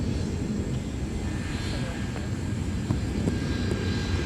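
A former Northwest Boeing 757-300 airliner taxis past on a taxiway at Minneapolis–St. Paul airport, its engines a steady broad roar close by, with faint voices underneath.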